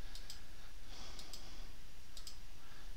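Quiet, sparse mouse clicks in pairs, a few short crisp ticks spaced out over a faint room hiss while navigating Backup Exec 2012 backup settings.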